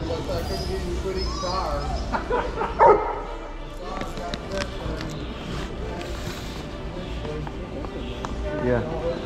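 A Cane Corso puppy in a PetSmart store barks and whines now and then, fairly close, among frequent talk from people nearby and general store noise.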